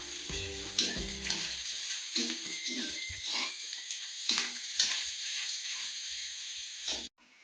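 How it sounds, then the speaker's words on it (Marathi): Onion, green chili and garlic fry in a pan for a pumpkin bhaji, a steady close hiss with scattered pops and spatula scrapes. The hiss runs throughout and cuts off sharply near the end. "आपला ही कांदा मिरची लसूण आता चांगला भाजला आहे"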